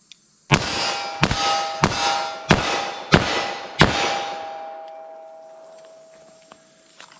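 Six rapid gunshots from a 4-inch .38 Special revolver firing Speer +P 158 gr lead semi-wadcutter hollow points, loud and evenly spaced over about three seconds, each crack ringing on before a long fading tail.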